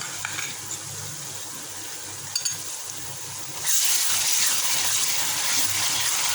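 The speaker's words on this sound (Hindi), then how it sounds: "आपने इसको अच्छी तरह से अदरक लहसुन के पेस्ट को फ्राई करना है" Ginger garlic paste hits a pan of cooked onions and fries, a low background hiss that jumps into a loud, steady sizzle partway through and holds to the end.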